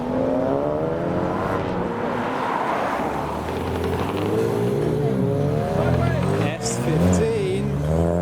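A turbocharged car accelerates away from a car show, its engine note rising and droning loudly through several gear changes while people talk nearby throughout.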